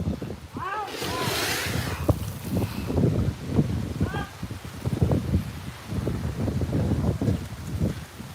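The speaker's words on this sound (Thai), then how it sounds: "ที่นี่อากาศก็เริ่มหนาวแล้วคะ่ะ แล้วลมก็แรงด้วยนะคะ" Strong, cold wind blows outdoors, buffeting the microphone in uneven rumbling gusts throughout while someone talks over it.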